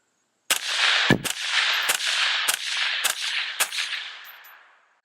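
Six suppressed rifle shots firing a 62 grain round through a Dead Air Nomad30 silencer ring out in an irregular sequence, each a sharp close crack followed by a rolling outdoor echo that gradually fades.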